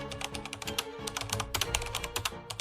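Rapid clattering keystrokes on a computer keyboard, steady and close, with a faint musical bed underneath.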